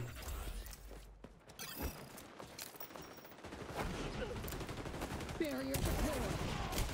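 Rapid P90 submachine gun fire in the shooter game XDefiant, with dense bursts of automatic shots mixed with other game sounds and a voice talking at times.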